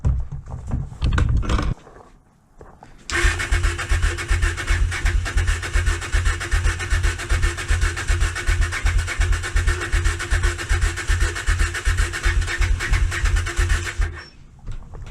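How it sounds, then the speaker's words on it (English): Honda Bros (Hawk GT) motorcycle with dry carburetors cranking on its electric starter, a loud, steady rapid churning that runs for about eleven seconds without catching, after a brief quiet pause. "So let's try and start the bike."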